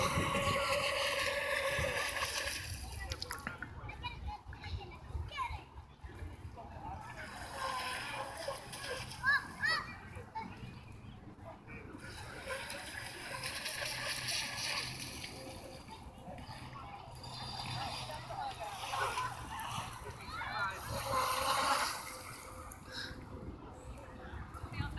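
A motorboat runs across open water on a summer outing, its engine a steady churning drone with splashing and wind rushing past, while people talk and someone speaks over it.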